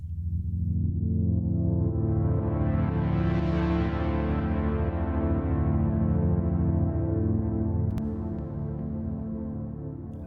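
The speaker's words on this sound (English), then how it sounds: "I also used the Rytm for some slower sounds like this one." An Elektron Analog Rytm drum machine voice in a dub techno live set plays a slow, sustained tonal sound with a steady low drone and upper harmonics that sweep up and back down, loud and alone.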